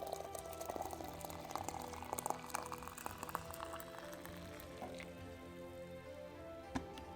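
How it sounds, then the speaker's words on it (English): Hot water poured into a cup over fresh mint and pineapple sage herbs for tea, a steady liquid splashing and filling sound running throughout at moderate level, with scattered small clinks. "Let's now pour hot water."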